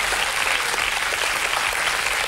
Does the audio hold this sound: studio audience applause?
yes